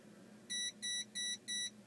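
A power inverter sounds four evenly spaced, high electronic beeps as it switches on, close and clear over a low background hum.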